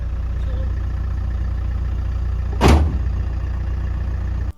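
A car broken down on a deserted beach idles with a steady low rumble, broken midway by a short, loud rushing burst of air before the engine drone settles again and cuts off at the end.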